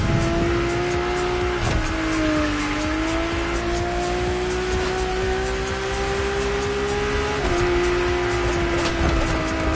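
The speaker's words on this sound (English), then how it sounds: "Your drift car is powerful as hell. With so many horses, they'll try to run wild with every acceleration." A powerful drift car in The Crew Motorfest racing game holds a loud, steady engine drone for the whole stretch. Pitch shifts as it revs, and tire squeal sounds throughout under a constant mechanical roar.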